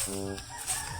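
Chickens clucking in a flock at an outdoor spot where kangkong is gathered, with stacked harmonic clucks and a crowing rooster at the start, then rough, busy farmyard noise.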